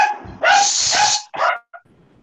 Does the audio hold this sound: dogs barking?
yes